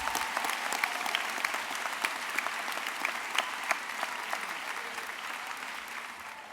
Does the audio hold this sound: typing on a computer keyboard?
no